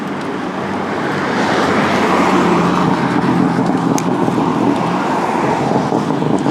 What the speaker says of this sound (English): Hubbly bubbly BMW.